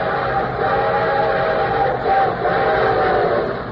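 A loud, steady rumble of a moving train with a sustained whistle tone sounding over it, continuous throughout, played as a radio show sound effect.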